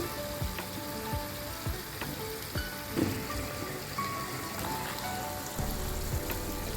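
Andhra-style gongura country chicken sizzling and frying in oil as masala is stirred in, a dense steady crackle with soft clinks and scrapes of a utensil against the pan, close and continuous, no talking.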